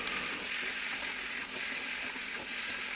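Beef sautéing with spices in a hot pan gives a steady, close, even hiss of sizzling oil, continuous with no pauses and no voices.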